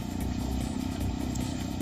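A motorcycle engine chugs at a low, steady pitch while crossing the dried-out Yamuna riverbed, faint and somewhat distant, with a light clatter over a constant hum.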